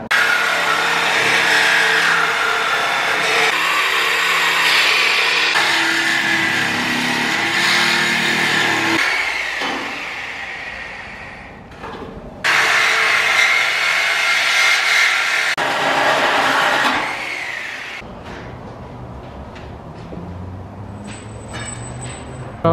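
BMW 340i Stage 2 engine revving with the exhaust valve open and the muffler cut, loud sustained engine roar rising and falling in several long bursts, then settling to a lower rumble with light clicks near the end.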